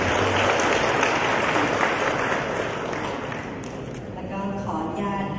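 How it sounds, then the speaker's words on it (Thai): Audience applause at a Ranong police ceremony returning land title deeds and property to residents, a steady dense clapping that fades slightly midway and swells again near the end, with a voice over a PA in places. "ขอเสียงปรบมือแสดงความยินดี"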